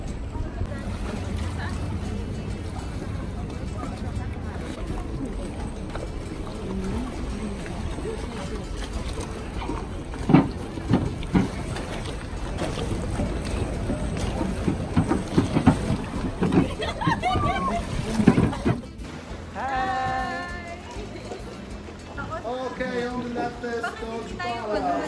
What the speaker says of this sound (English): Now we're going for a ride on a beautiful gondola.